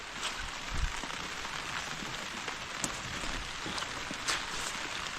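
Rain falls steadily on garden plants where cucumbers grow, a continuous close patter with scattered louder drops hitting leaves, and no voices.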